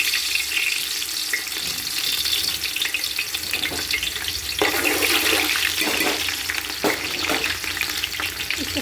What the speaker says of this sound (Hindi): ये हमने प्याज फ्राई करके निकाल ली है